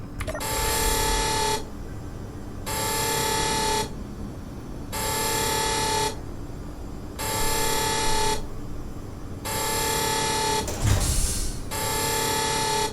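A repeating electronic alarm sounds inside a mining bay in the video game Space Engineers, with six loud, evenly spaced buzzing tones of about a second each, separated by short gaps, and no talk.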